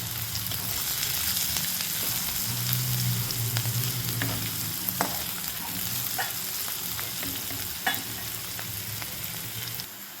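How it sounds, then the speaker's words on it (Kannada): Onions frying in a pan for cabbage palya, cooked until golden brown, give a steady close sizzle with scattered crackles and pops and a few stirring scrapes, with no talking. "ಇದು ಸ್ವಲ್ಪ ಗೋಲ್ಡನ್ ಬ್ರೌನ್ ಆಗೋ ತನಕ ಬೇಯಿಸ್ಕೊಳ್ಳೋಣ."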